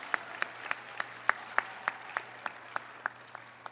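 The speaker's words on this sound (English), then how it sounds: "Let's give them all a round of applause." A small audience at a graduation ceremony claps in a sparse, evenly spaced rhythm of about a dozen distinct claps, quiet and distant, with no voices.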